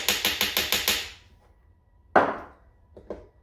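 A metal coffee tamper raps on a portafilter of espresso grounds, making a quick run of about six light, even taps, then one louder knock and two small taps, close by with no talking.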